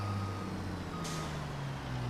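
A truck in a Texas farm simulation reverses with steady electronic backup beeps over a constant engine drone, and a brief hiss of air partway through.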